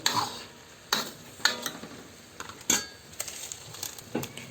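Winged beans simmering in coconut milk are stirred in a pot, with a spoon scraping and clinking against the sides in several separate bursts over a quiet, soft bubbling.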